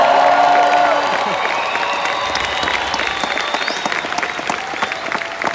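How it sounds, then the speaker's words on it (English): Audience at a WFG convention applauding loudly, dense clapping with some cheering and whistles that holds strong and slowly eases. "I should get a bigger applause than that"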